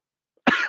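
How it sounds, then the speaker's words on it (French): A single short, sharp cough close to the microphone after near silence. "Désolé pour la toux."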